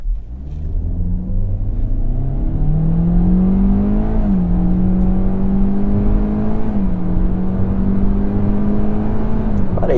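A 2023 Kia Soul launching hard in sport mode, its engine droning loud and close as the pitch climbs steadily, dips briefly at a shift, then keeps rising for the full stretch.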